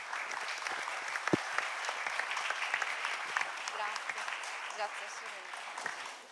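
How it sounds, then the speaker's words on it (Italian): Sustained audience applause fills a conference hall on regional economic development, a dense, even patter of many hands clapping steadily at moderate level for several seconds, with one sharper clap standing out early on. "Accogliamola con un applauso."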